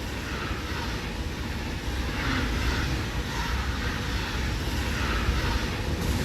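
A train rumbles past in the factory-building game Satisfactory, a loud, steady mechanical roar that swells slightly partway through and carries on without pause.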